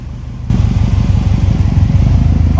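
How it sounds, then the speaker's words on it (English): Subaru WRX STI engine running steadily as the power steering is bled by turning the wheel back and forth, a close, loud, even idle hum with pulsing low rumble that jumps up in level after a brief quieter start. "by turning the wheel back and forth, we're slowly bleeding the air out of the power steering system"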